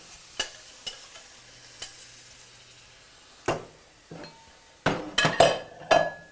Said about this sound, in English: And now I'm going to add these scrambled eggs.